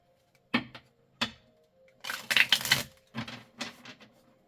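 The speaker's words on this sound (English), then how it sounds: "Let me shuffle your deck." A deck of reading cards is shuffled by hand: two sharp, separate card snaps, then a quick riffling burst and a couple of shorter flutters, close and clear in a quiet room.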